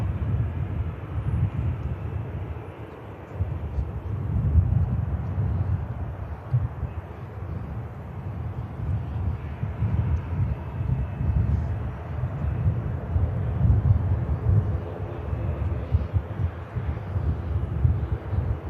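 A KLM airliner departs Manchester Airport bound for Schiphol, a sustained low roaring jet rumble heard from a distance with some wind buffeting on the microphone and no voices.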